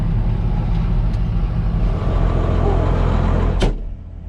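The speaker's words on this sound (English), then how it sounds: "driving with the door open so he can hear the bark and listen to his tractor whenever he's giving her the beans" Farm tractor at a tractor pulling tournament, its engine roaring loud and steady close by, then cutting off sharply with a bang near the end.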